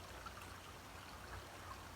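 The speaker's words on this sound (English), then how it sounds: "I get more water coming out of the waterfall." A garden pond waterfall gives a steady, soft rush of flowing and trickling water, even and continuous throughout, faint and somewhat distant, with no voices.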